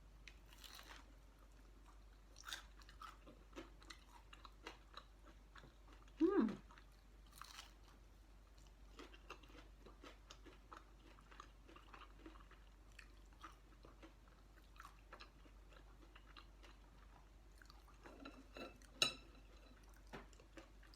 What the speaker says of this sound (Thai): กินแบบเปล่าๆ